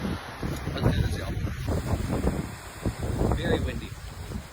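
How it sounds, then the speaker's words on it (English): Strong gusty wind buffets the microphone on the Lake Superior shore, a steady low roar with surging gusts and faint waves, loud and close throughout. "Very windy."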